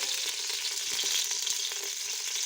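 Cumin seeds sizzle in a cup of hot oil as a base for mutton haleem, a steady close crackling hiss with small pops scattered throughout.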